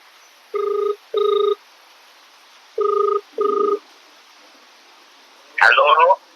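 A phone rings in two double bursts separated by a pause, clear and electronic, followed by a brief rustle or voice at the end.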